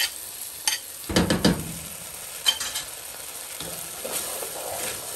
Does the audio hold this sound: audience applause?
no